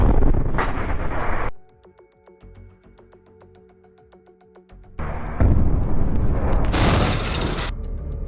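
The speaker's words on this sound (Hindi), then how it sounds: "उसके ऊपर एक रॉकेट लॉन्चर से हमला कर दिया जाता है, जिसमें जोरदार ब्लास्ट होता है।" A rocket launcher strikes a tank in Gaza: a loud, rumbling blast opens, falls to a quiet stretch of faint mechanical ticking, then a second heavy, sustained roar of explosion and debris follows.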